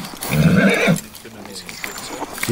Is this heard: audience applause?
no